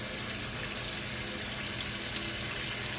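Lukewarm tap water runs steadily into a sink, a constant close-up rushing splash with no voices over it.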